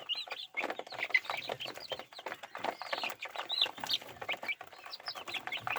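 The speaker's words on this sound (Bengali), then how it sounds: "সবাই খাচ্ছে দেখতে পাচ্ছেন মুরগিগুলো।" Free-range desi chickens feeding on a farm, clucking and murmuring steadily, with overlapping clucks from several birds close by and no talk.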